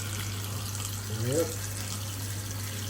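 Tap water running into a cooking pot of strained red peas and pigtail for Jamaican stew peas, a steady splashing flow under a constant low hum, with a brief spoken word partway through.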